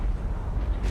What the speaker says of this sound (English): Miyoko's magazine explosion.